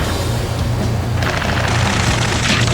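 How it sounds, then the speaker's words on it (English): Gunfire and explosions in Ace Combat 7 merge into a continuous loud roar of rapid fire and booming blasts, growing harsher partway through. "Taking fire! We're pinned down! Shoot back!"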